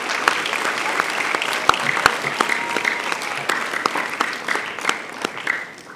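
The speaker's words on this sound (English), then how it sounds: "Please give them a round of applause." An audience at a primary school mental maths competition claps steadily, with a few loud individual claps rising above the continuous applause before it tapers off.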